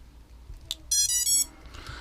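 Just after a battery is plugged in, a drone flight controller sounds a short run of high electronic beeps, close and clear over faint background hiss.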